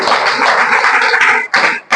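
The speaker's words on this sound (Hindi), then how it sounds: "चलिए इसके लिए जोरदार ताली" A meeting audience breaks into loud, dense applause, many hands clapping at once, close and sustained with a brief dip before swelling again.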